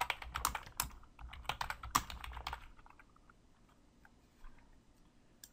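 Quick clicking of keys on a computer keyboard, close and clear, in a rapid burst for about two and a half seconds before it stops and the room goes quiet.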